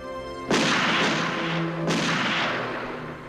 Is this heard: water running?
no